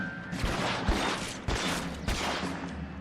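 Rapid bursts of gunfire in the L.A. Noire video game, dense volleys with sharp loud cracks repeating through the clip, sounding close and continuous like a firefight.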